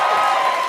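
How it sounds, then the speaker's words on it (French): A studio audience at a televised talent show cheers and shouts continuously at a steady, loud level, with a bright, dense roar filling the whole moment. "J'aimerais ça qu'on les applaudisse"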